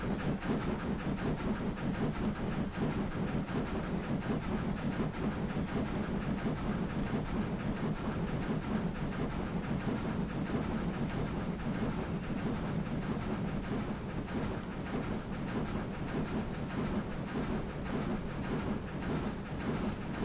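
A model steam locomotive runs steadily up a steep gradient, picking up speed with a continuous chuffing exhaust and mechanical rumble that stay constant and fairly close throughout, with no talk.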